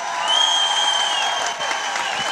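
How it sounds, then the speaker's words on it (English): A crowd at a Toronto human-rights rally applauds, steady dense clapping with some cheering, moderately loud and continuous throughout. "Let's give them a round of applause."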